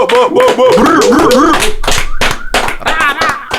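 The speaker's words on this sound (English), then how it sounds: "Can I get a round of applause?" Quick bursts of hand clapping mix with loud, overlapping talk and laughter in a UK rap podcast studio, the claps close and sharp beneath the voices.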